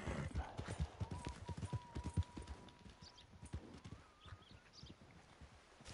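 Horse hooves clip-clop in a steady walking rhythm in the video game Red Dead Redemption 2, close and fairly quiet, with a faint tonal whine in the background.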